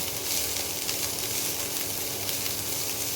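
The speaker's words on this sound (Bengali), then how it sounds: "অল্প করে পেঁয়াজের গন্ধটা চলে যাওয়া অবধি ভাজতে হবে" Onions fry in a pan with a dense, even sizzle that holds steady and close from start to finish, with no talking.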